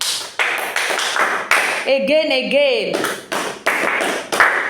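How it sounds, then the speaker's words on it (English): A class claps for a student, with quick hand claps running under a teacher's talk throughout, while another voice speaks briefly in the middle. "Clap for him."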